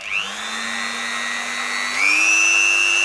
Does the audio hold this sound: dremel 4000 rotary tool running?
yes